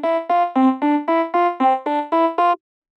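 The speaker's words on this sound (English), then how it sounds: "Let's go ahead and just create like a simple arpeggio pluck pattern to show this off." Vocoder carrier synth playing a simple arpeggiated pluck pattern on a seventh chord: ten evenly spaced bright harmonic notes, each with a quick attack and short fade, stepping steadily for about two and a half seconds before stopping.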